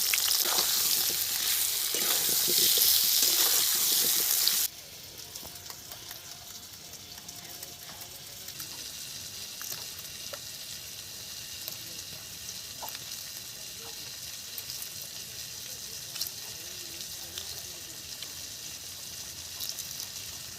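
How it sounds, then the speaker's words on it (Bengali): Potatoes with salt and turmeric fry in hot oil: a loud hiss as they drop into the oil, then a steady, quieter sizzle that holds for the rest of the clip, with no talk over it. "কড়া গরম হয়ে গেছে তেল দিয়ে দিচ্ছি আলুগুলো তেলের মধ্যে তুলে দিলাম একটু নুন হলুদ দিয়ে দিলাম"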